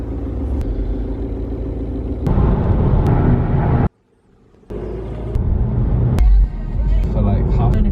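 A car drives along a road for a two-hour journey, its steady low engine and tyre rumble running continuously under people talking, with one brief drop to near silence midway before the road noise returns.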